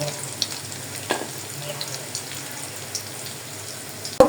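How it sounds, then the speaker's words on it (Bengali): Onions fry in oil for a radish and puti fish curry, giving a soft, steady sizzle with a few faint stirring clicks and one sharp knock at the very end. "পেঁয়াজ ভাজা হয়ে গেছে"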